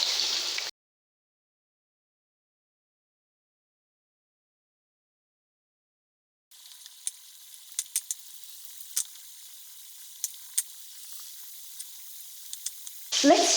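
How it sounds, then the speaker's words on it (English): Buttermilk-marinated chicken pieces frying in hot oil: after a long silent gap, a steady fizzing sizzle starts and carries on with scattered sharp pops and crackles, close and without talk. "shake off the excess, and gently put it in the oil."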